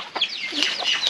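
Hens clucking close by in a farmyard with chicks nearby, a steady run of short, nasal calls overlapping through the moment, no talking.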